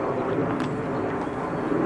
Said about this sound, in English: Oh, it's an airplane.